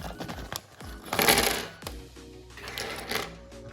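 A small plastic bag holding Lego minifigures is torn open and handled, giving a run of crinkling, rustling bursts with a few sharp clicks, close and fairly quiet, with no talk.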